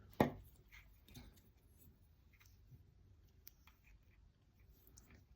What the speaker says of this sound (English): And I'm just going to snip that.